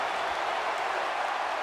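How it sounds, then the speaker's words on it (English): An arena crowd in the WWE 2K16 wrestling game cheers and roars in a steady, dense wash of noise with scattered applause, continuous throughout. "The crowd is buzzing."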